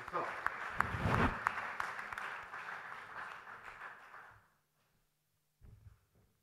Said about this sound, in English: Big round of applause and we hand it over to Sir.